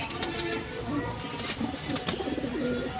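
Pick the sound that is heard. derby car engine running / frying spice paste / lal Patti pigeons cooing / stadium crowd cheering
lal Patti pigeons cooing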